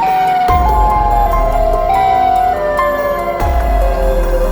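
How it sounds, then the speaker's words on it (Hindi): A Siren Head creature's siren blares in a horror setting as a loud, continuous wail, with pitch stepping between sustained tones and restarting with a sharp surge, heard alone with no talk. "फिर से वही सायरन का आवाज आने लगता है।"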